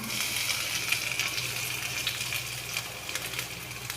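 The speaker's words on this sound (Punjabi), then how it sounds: "ਲਸਣ ਨੂੰ ਨਾ ਥੋੜਾ ਜਿਹਾ ਆਪਾਂ ਪਹਿਲਾਂ ਕਲਕਾਵਾਂਗੇ ਤਾਂ ਕਿ ਇਹਦਾ ਪਾਣਾ ਜਿਹੜਾ ਖਤਮ ਹੋ ਜੇ" Garlic fries in a hot pan with a steady, bright sizzle that crackles continuously at moderate volume, with no voices over it.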